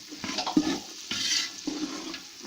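Chopped chicken being stirred in a pot for fried rice, heard as a few separate scraping strokes and soft clattering bursts with brief gaps between them, close and fairly loud, with no talking.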